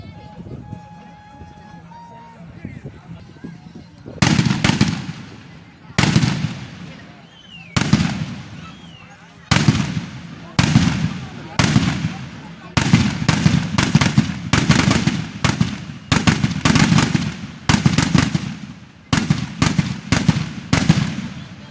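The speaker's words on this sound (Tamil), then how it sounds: "ஸோ பட்டாசு மறுபடியும் வெடிக்கிறாங்க" Firecrackers go off at a village Pongal festival procession. Sharp, loud bangs come close by, first singly with gaps, then in rapid crackling volleys that carry on steadily over a soft crowd murmur.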